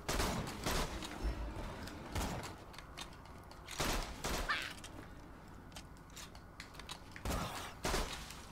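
Sharp bursts of gunfire from the video game Borderlands 2 in co-op play, several distinct shots spaced irregularly with mechanical clanks and creaks between them, fairly quiet overall.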